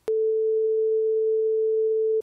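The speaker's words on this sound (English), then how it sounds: "Here's that same sine wave phase shifted 90 degrees." A steady pure sine wave tone, shifted 90 degrees in phase, holds at one constant pitch and loudness for about two seconds, starting and stopping abruptly with a faint click at each end.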